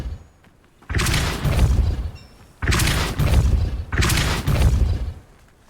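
The Depulso force spell in Hogwarts Legacy is cast three times, each a loud, heavy whooshing boom that lasts over a second and is separated by short quiet gaps.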